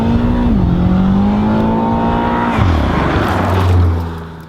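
A BMW M6 with a 560-horsepower twin-turbo engine, a loud steady engine drone whose pitch drops in stages as it shifts and settles, then fades toward a lower idle near the end.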